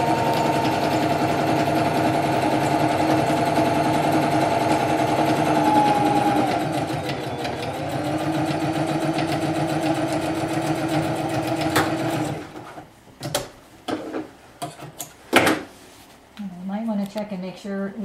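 A sewing machine running a straight stitch through a fabric art banner, a steady buzzing hum for about twelve seconds that then stops, followed by someone talking.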